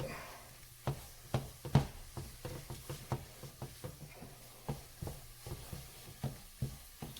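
A butter and flour roux cooks on gentle heat, with a soft steady sizzle under irregular scraping stir strokes and utensil taps, close and moderately loud, no talk.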